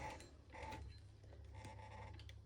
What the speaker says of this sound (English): So I just want to use that hand crank